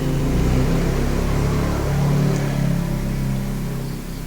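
A semi-computerized CNC milling machine, shaped like an ordinary conventional mill, runs with a steady low mechanical hum and drone, continuous and fairly loud throughout.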